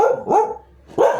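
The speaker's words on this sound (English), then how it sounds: "Sorry, that's my dog." A dog barks twice indoors, loud and close, with two short sharp barks separated by a brief pause.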